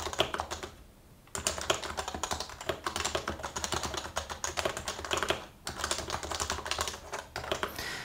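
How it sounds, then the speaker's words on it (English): Typing on a Bluetooth Happy Hacking Keyboard Professional, a dense, steady clatter of keystrokes heard up close, with two short pauses where the keys fall quiet before the typing resumes. "Let me type on it a little bit so you can get a sense of how that sounds."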